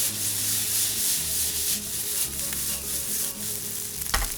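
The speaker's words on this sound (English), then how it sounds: "Toss the cold rice into the pan." Cold rice and vegetables sizzle and scrape in a pan, a close, continuous frying hiss with rubbing stirring strokes and a sharper clatter near the end.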